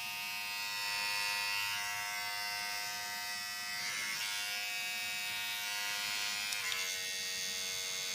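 A Braun Series 9 AIO9545 all-in-one grooming kit running, a steady close electric buzz and whine that holds for several seconds with a slight pitch shift near the end, no voices.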